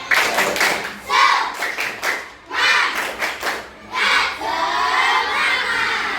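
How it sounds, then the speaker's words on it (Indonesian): Schoolchildren in a classroom do a rhythmic clapping cheer, bursts of group clapping and shouted chanting in several loud phrases, close and lively. "coba bersikap dengan tepuk semangat"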